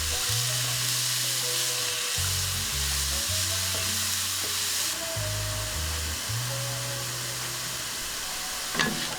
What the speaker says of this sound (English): Let the onions saute for a few minutes.